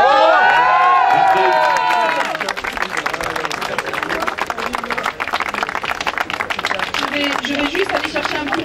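Crowd at an event bursting into lively applause and cheering with clapping and shouts, loud and continuous, following a short burst of voices at the start.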